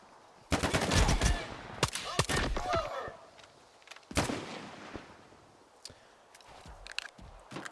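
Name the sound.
pistol gunshots in a video game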